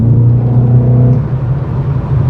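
A Holden VF SS Walkinshaw 315kW V8 pulls hard in fourth gear, a loud, close, steady engine drone whose pitch holds then shifts slightly, heard from inside with no talking.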